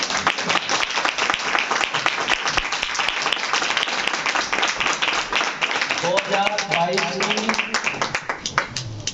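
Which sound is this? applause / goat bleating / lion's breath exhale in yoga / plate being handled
applause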